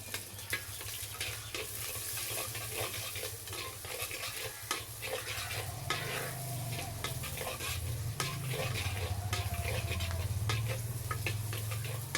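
Onion and green chilli fry and sizzle steadily in oil with popped mustard and fenugreek seeds, stirred with a utensil in a pan for a fish curry, a constant loud crackle with occasional scrapes and no talk.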